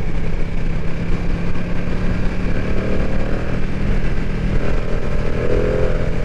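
A Ducati V2 Panigale motorcycle engine drones steadily while riding, a loud continuous rumble mixed with wind roar and no clear rev changes throughout.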